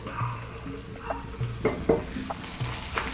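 Onions soften in a pan for a lamb tagine, a soft low sizzle broken by a few close clinks and scrapes of a spoon stirring, with no talking.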